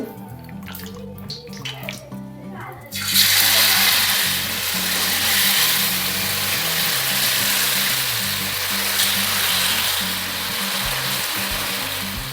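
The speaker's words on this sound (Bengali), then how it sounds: "আমরা হাই হিটে দু তিন মিনিট ভেজে নেব নেড়ে চেড়ে" Marinated chicken drops into two tablespoons of hot white oil in a kadai over high heat, bursting into a loud, continuous close-up sizzle after a few quieter clanks at the start.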